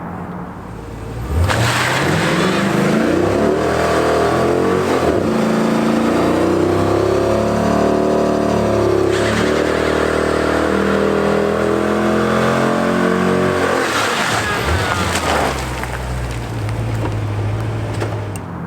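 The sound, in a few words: Jeep SRT doing a burnout, engine revving, wheel spinning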